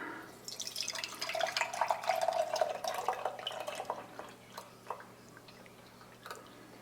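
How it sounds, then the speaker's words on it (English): Liquid pours into a jar on a homestead, a steady splashing stream that builds and then tapers into scattered drips, heard close up. "Let me see if I can pour this without making too much of a mess."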